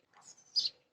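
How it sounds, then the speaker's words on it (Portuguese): Small birds chirp in a nearby tree, a couple of faint, brief high tweets against near silence. "Vocês estão ouvindo barulho de passarinho?"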